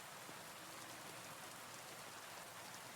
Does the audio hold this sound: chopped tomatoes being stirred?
no